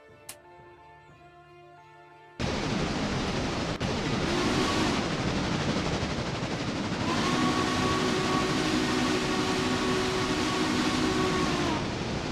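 Coal-hauling locomotive in the railroad simulation game Railroader: a steady, loud engine rumble with a sustained whistle-like tone swells in after a quiet opening, running continuously without speech.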